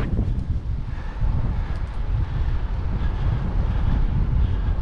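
Steady, loud wind roaring and buffeting against the microphone in cold fog high on Mont Ventoux, a continuous low rumble with no speech.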